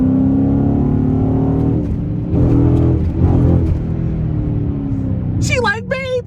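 A Dodge Charger SRT in traffic rumbles with a deep, steady engine note that swells in short revs, heard from inside a car while someone talks over it.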